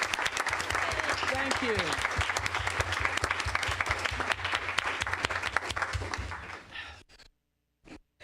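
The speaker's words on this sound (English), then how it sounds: "Please applaud for them." Audience applause at a school board meeting, a steady wash of clapping with a voice speaking over it and a sustained low hum beneath, then the clapping cuts off near the end, leaving near silence.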